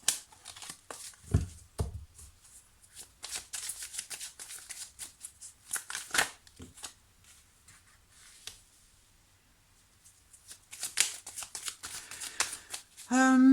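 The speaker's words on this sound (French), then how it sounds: "Une carte qui s'est retournée." Tarot cards are shuffled, slid and flipped over by hand close up, bursts of crisp riffling and snapping card noise separated by quieter pauses.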